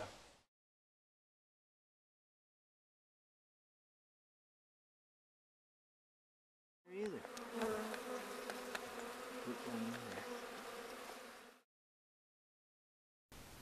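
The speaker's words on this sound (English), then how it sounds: "Honeybees." Honeybees buzz in a dense, steady drone up close for several seconds, with silence before and after.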